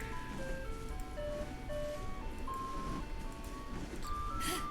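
An ice cream truck's jingle plays nearby, a clear repeating chime melody of stepped notes over a low road rumble.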